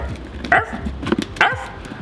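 A dog barks in short, sharp bursts, two or three barks spaced across a couple of seconds, fairly close, over a low background hum.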